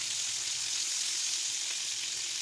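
Green beans sear in a frying pan over medium-high heat, giving a steady, bright sizzle that stays even and close throughout with no talking.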